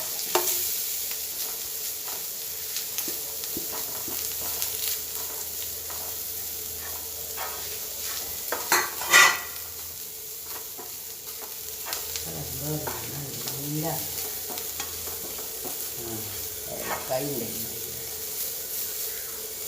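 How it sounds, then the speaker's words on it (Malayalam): Grated coconut from half a coconut roasts and stirs in a hot pan with ghee, giving a steady low sizzle with occasional scraping and stirring clatter, close by and fairly quiet throughout. "തേങ്ങ ചിരകി എടുത്തിട്ടുണ്ട് ഇതൊന്ന് ചൂടാക്കി"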